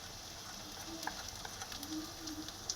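Fried onion with ginger-garlic paste and ground spices sizzles in a pan for a yogurt chicken curry, a soft, steady frying hiss with faint occasional crackles and no voices.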